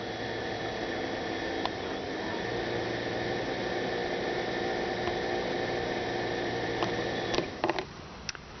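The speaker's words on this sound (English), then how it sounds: "So as I'm running the pump, the coolant pump, the level in the funnel goes down as I run it" A Toyota Prius electric coolant pump runs steadily while air is bled from the engine cooling system, giving a constant close whirring hum with faint noise, a few brief clicks, and handling noises near the end.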